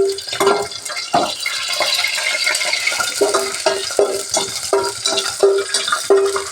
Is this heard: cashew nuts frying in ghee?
yes